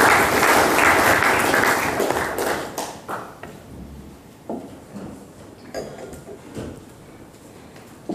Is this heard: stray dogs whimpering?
no